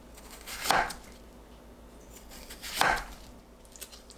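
Two crisp knife chops through peeled Korean melon, sliced 0.7 cm thick, land about two seconds apart on a board, close and clear against a quiet kitchen.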